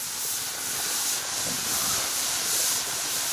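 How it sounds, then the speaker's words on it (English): A pressure canner with a 10-pound weight on a rocket stove gives off a steady, broad hiss of escaping steam, close and continuous with slight surges, and no talking. "We've got the pressure canner rocking and rolling."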